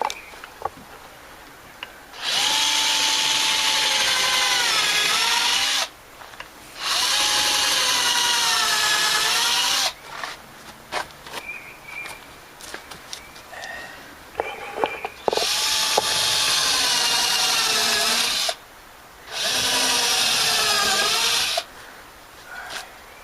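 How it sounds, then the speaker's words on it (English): A power drill bores down into wood to pre-drill a deck rail for a nail, three or four loud sustained whirring bursts with quiet gaps and clatter between them. "So we got to pre-drill down through here."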